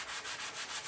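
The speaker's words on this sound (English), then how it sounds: "First, I gotta sand the edge." Sandpaper rubs back and forth along the edge of a tile board, a close, steady rasping in rapid, even strokes, about five passes in a second, with no talk.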